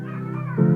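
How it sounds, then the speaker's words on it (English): A cat meows loudly and close by, one sustained, rising cry that swells near the end, with no talk over it. "You're a cat."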